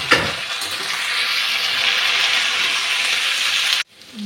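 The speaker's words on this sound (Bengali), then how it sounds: "কপি আর আলুটা ভাজা হয়ে আসছে" Cauliflower and potato fry in a pan with a loud, dense sizzle and stirring. Green peas go in near the end, and the sizzle then cuts off abruptly into quiet.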